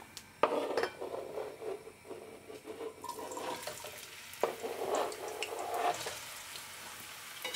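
Potato cubes sizzle in hot oil in a frying pan, a soft, steady hiss with clinks of a spatula as the pieces are tossed, fairly close and quiet.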